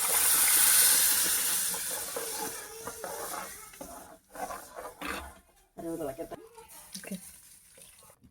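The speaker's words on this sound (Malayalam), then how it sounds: "കുറച്ചധികം കുടംപുളി ഒഴിച്ചു കൊടുക്കാം" Kudampuli (Malabar tamarind) water pours into a Kerala-style mackerel curry with a loud, close, hissing rush in the first two seconds. A person then talks over quieter liquid sounds.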